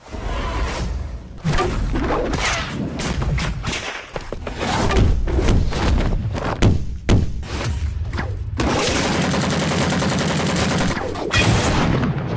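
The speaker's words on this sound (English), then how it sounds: "Jolene and Stone Free having machine gun shots for the barrages" Anime fight sound effects from JoJo barrages: dense, rapid machine-gun-like bursts of shots mixed with thuds, whooshes and whip cracks, loud and continuous with short gaps.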